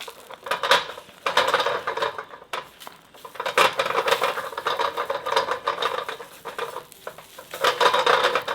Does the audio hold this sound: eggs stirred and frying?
yes